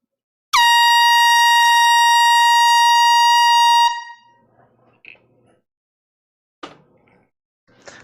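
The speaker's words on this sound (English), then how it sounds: "Here's the air horn." A single loud air horn blast rings out close by and steady for about three seconds during a live vinyl record auction sale, then cuts off, followed by faint room noise and a couple of soft clicks.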